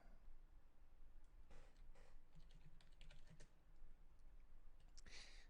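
Clicky bursts of typing on a computer keyboard come in quick uneven runs with short pauses between them, quiet and close.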